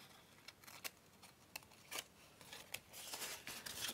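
Scissors snip through paper while cutting junk journal scrunched pockets, giving a series of short, crisp, close cuts at an irregular pace with no talking.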